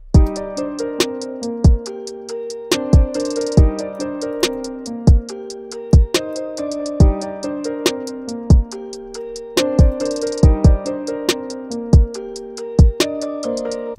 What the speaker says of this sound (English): Next, we had a kick and a snare,